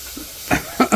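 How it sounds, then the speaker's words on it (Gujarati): Masala paste of red chilli, coriander and turmeric, with a little water, frying in hot oil, giving a few short, close sputtering hisses over a steady low sizzle. "તો હવે જો આ શેકાઈ ગયો, તેલ બી આવે."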